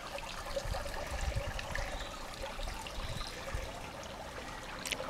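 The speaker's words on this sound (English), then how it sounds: "We have a water feature made of toughened glass, giving nice sound." Water trickles and splashes softly and steadily from a toughened glass garden water feature, a continuous gentle burble with no voices.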